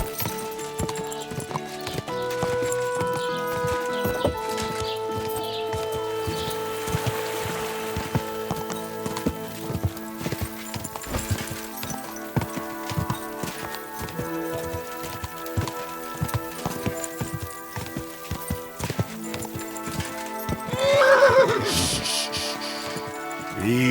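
Rhythmic clip-clop of horse hooves over a musical background in the video game Kingdom Come: Deliverance II, with a brief whinny near the end; a faint voice murmurs at times.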